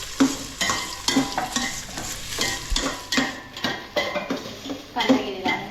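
Onion for pav bhaji sizzles in a pan while a spoon scrapes and clinks against the metal in a steady stirring rhythm, close by, with brief voices in the background.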